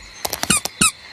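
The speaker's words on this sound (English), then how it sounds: "It's a squeaky toy." A cartoon squeaky toy squeaks in a quick burst of about six sharp, bright squeaks, close and clear with nothing else underneath.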